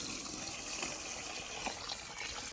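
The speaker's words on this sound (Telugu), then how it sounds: "కొలత నీళ్ళు పోసుకుందాం." Measured water poured into a pot of mushroom biryani being cooked with rice, a steady gushing splash of liquid filling the vessel, continuous and fairly close with no talking over it.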